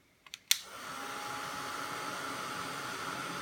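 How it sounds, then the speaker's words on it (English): A few clicks of a heat-embossing heat gun switching on give way to a steady, loud airy roar that holds for the rest of the clip, used at a crafting desk to shrink plastic; no talk is heard. "this is a heat gun"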